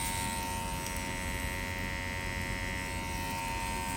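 A cheap tattoo machine ordered from Temu gives a steady, loud electric buzz up close. The whine holds an even pitch without pause for the whole stretch, with no talk.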